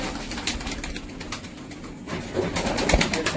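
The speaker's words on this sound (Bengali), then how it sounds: "খুব কম পাওয়া যায় এইসব লোটন পায়রা" Lotan pigeons coo softly in a loft, giving a steady, murmuring, low cooing that rises slightly toward the end, mixed with faint rustling.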